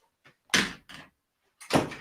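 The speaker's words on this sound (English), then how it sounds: "sorry, the door popped open" A door pops open indoors with a few short, close knocks and a rattling thump, quick bursts separated by brief silences.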